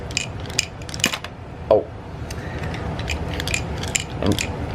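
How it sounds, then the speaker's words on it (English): Small metallic rattles and clicks come in scattered bursts from a loose nail shaking inside a Thomas Wooden Railway toy, close up with no speech. "That is the sound of a nail"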